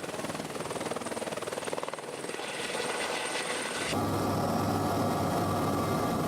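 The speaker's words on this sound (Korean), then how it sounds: "First time to have a helicopter ride." Steady helicopter rotor and engine noise over Niagara Falls in winter, loud and close, a continuous broadband roar that grows slightly heavier partway through.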